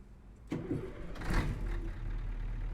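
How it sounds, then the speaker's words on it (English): The Scania R560 V8 truck engine in Euro Truck Simulator 2 cranks and fires up with a sudden loud catch, swells into a deep rev, and then settles into a steady, rumbling idle. "It's a classic Scania R560 V8 engine. Should sound good on the road, so let's get us started."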